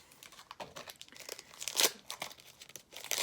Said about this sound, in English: Few more to go on ripping some BBM 1991 cards.